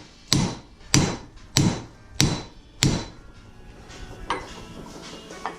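Five evenly spaced, heavy hammer blows strike the lower ball joint of a 2004 Honda Accord with a ringing metallic thud, followed by a few lighter, quieter taps.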